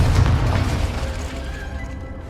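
A Confringo fire spell bursts in Hogwarts Legacy with a loud, close boom that decays into a rumbling tail over a couple of seconds, with no talking.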